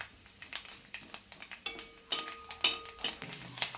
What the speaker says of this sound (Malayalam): നല്ലപോലെ ഇളക്കി കൊടുക്കണം ചെറുതീയിൽ.